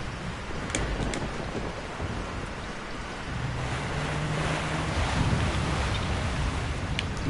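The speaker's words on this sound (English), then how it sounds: "Crazy, raining, storm, hurricane-y." A stormy night in Resident Evil 4 brings heavy, hissing rain and gusting wind with low rolling thunder swelling beneath, a constant dense wash of weather sound with no voices.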